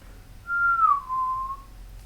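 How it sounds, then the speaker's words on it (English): A person whistles a single sustained note that slides gently downward, with a short break, clear and close against a quiet room. "I'm going to try my best to whistle"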